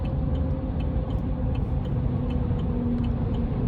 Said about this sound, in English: rolling road noise